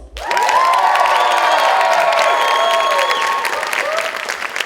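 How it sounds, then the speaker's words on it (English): Enthusiastic audience applause at a revue show, loud and sustained with cheers and whoops mixed into the dense clapping, starting abruptly and holding steady for several seconds. "can we have a little test of applause?"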